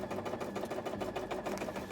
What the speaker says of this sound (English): I'm just sewing the whole embroidery on